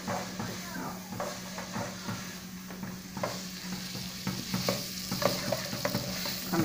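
Food fries in a pan while it is stirred with a utensil, giving steady sizzling with repeated scraping clicks as dried beef cooks for tutu de feijão; a voice speaks briefly.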